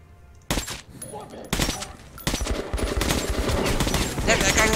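Shotgun blasts in the shooter Metro 2033 Redux ring out as loud, close bursts, with three sharp heavy reports followed by sustained chaotic firing and commotion.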